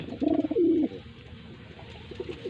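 Racing pigeons coo in a loud, close burst at the start, followed by quieter, softer calls near the end.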